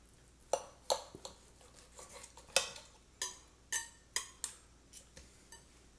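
A knife slicing through a steak that was smoked for two hours and then grilled, producing a series of crisp, separate cutting clicks and scrapes against a board, close and fairly quiet.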